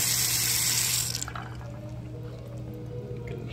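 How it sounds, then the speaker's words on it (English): A Samsung Galaxy S7 phone being rinsed under a running kitchen tap, with a loud steady rush of water for the first second that drops to a softer trickle and splashing as the phone moves in the stream. "Rinse it off, dry it off."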